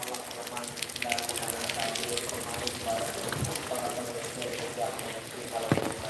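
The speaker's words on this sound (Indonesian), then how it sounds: "Banjir ya hujan ini, hujan dari 3 hari 3 malam nggak reda-reda ini di Lombok." Heavy rain falling steadily in Lombok, a dense broadband hiss of drops on surfaces throughout, with faint voices in the background.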